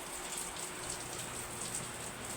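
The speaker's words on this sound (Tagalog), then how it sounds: "maulan po ngayon dito sa Dasmariñas, Cavite" Morning rain falling outside in Dasmariñas, Cavite, a dense steady hiss of drops on surfaces, even and continuous with no voices.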